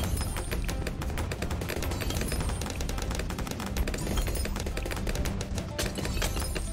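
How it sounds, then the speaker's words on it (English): Rapid, dense streams of dart-throwing and bloon-popping effects from a Bloons TD tower battle, a continuous crackling barrage of sharp pops with steady game sounds underneath. "Popping mobs with the Sharper Darts upgrade does so much damage."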